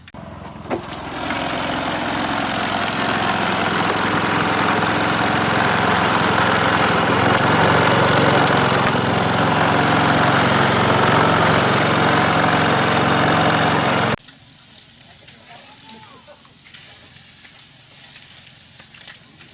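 A Duca 4 kW low-noise portable generator runs steadily at a campsite, a loud continuous engine hum with broadband roar that holds for about fourteen seconds, then cuts out abruptly, leaving faint wind and quiet background.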